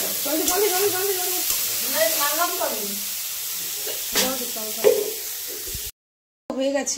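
Soybean chunks sauté and sizzle in a pan at home with a soft, steady frying hiss, while someone talks over it intermittently.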